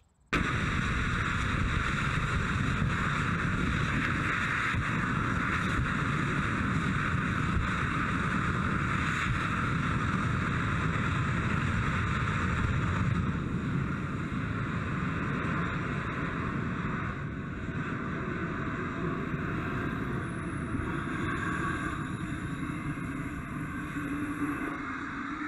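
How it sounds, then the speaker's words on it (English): The Kismet rocket engine fires in a static test, producing a sustained, even broadband roar that holds at full strength for over twenty seconds before easing slightly near the end. "start the engine by opening the injector valve"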